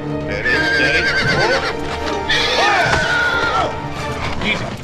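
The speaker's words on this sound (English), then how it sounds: "Here, that horse is a killer, Ben." A horse whinnies loudly and repeatedly, shrill neighs rising and falling over hoof clatter and a few bangs nearby.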